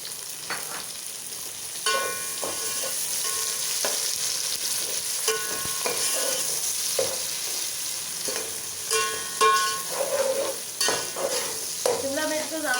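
Capsicum sautés in a pan with light golden onions, giving a steady close sizzle with intermittent scraping and stirring clatter.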